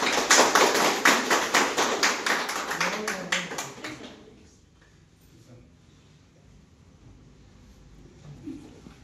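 At a Kisan Congress honouring ceremony in Araku Valley, an audience claps in a burst of quick, sharp, rhythmic hand claps that fade out after about four seconds, leaving quieter room sounds and murmuring.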